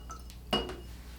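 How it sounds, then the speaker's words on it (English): A paintbrush is swished and tapped against a water container while an acrylic beach scene is painted, a single short clinking splash, close and fairly quiet. "I'm just going to rinse out that brush"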